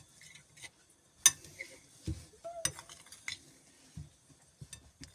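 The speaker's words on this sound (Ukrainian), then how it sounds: "Так, перемішуємо нашу начиночку." Metal utensil clinks and scrapes against a bowl of meat patty filling in irregular bursts, with soft mixing sounds between them, close up and fairly quiet.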